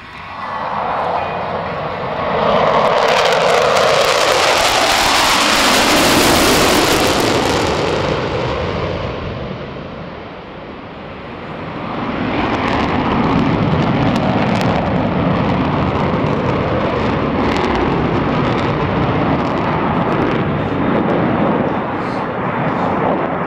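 US Navy Blue Angels jets at the Peoria air show in 2008, a loud roaring pass that swells and fades, then a second long, heavy roar rumbles on.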